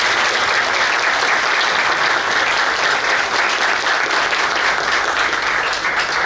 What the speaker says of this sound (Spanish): Yo creo que es válido que le demos un fuerte aplauso.